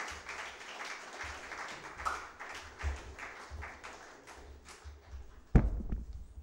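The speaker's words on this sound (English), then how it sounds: "Let's keep the applause going virtually and in the room." An audience in a lecture hall gives scattered, uneven applause that swells and fades in bursts, with a loud thump near the end.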